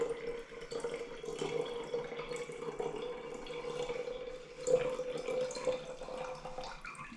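Tap water runs steadily into a small countertop water filter, a continuous close splashing trickle with faint drips, heard alone without talk.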